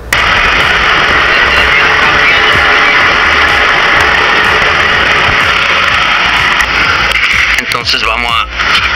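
An air extractor fan motor runs steadily at close range, a loud, continuous whirring drone with a broad hiss that stays constant, shifting slightly near the end.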